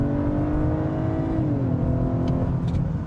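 A 2025 Acura RDX A-Spec SUV accelerates hard from a standstill toward 60 mph, slightly uphill, its turbocharged engine note rising steadily and loudly from inside the cabin, with a brief shift-like dip in pitch.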